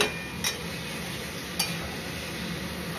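Potatoes stir-fry in a pan for aloo dum in a home kitchen, with a continuous close sizzle and two sharp utensil clinks against the pan partway through, and no talking.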